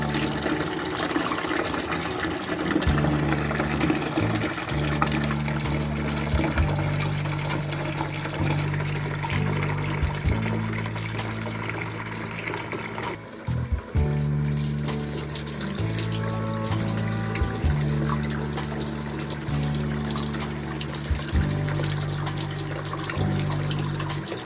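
Water flows steadily through a gold recovery rig built from an empty MAPP gas can, a continuous close gushing and trickling with a low pulsing hum from a pump that briefly cuts out midway.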